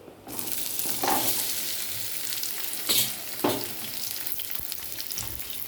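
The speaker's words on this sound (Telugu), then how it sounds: "ఉల్లిపాయలు పచ్చిమిర్చి ఎగుతూ ఉండేటప్పటికి" Sliced onions and green chillies fry in a generous amount of oil, a steady, close hiss that swells with occasional stirring scrapes and clinks before fish is added.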